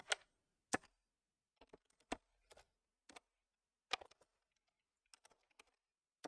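Scattered keystrokes on a computer keyboard while coding in Python, heard as sparse, crisp clicks arriving singly and in small clusters with quiet gaps between them.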